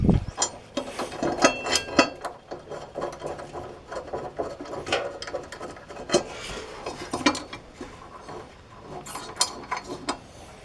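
A ratchet wrench clicks in short bursts while bolting a freshly sharpened blade back onto an old Briggs and Stratton lawn mower, with close metallic clanks and repeated ratcheting throughout.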